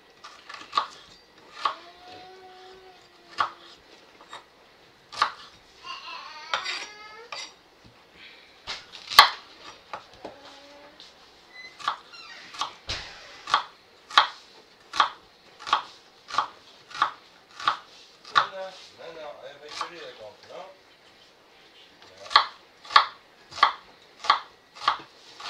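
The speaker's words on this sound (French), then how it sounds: "on coupe en 2 l'émincé" A knife slices and halves ingredients for chicken spaghetti with vegetables, chopping against a board in crisp, evenly spaced strikes that come in long runs, with a few brief pauses and faint clatter in between.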